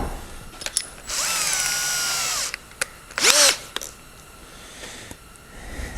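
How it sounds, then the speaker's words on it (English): A power drill bores a 3/8-24 thread hole in an Onan 884 cubic inch V8 generator, with a sustained whine lasting about a second and a half, then a shorter burst, amid clicks and handling noises. "We're drilling for 3/8 24 thread size."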